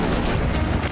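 An Incendio fire spell cast in Hogwarts Legacy, a brief loud whooshing burst of flame that fills the moment with a dense roar.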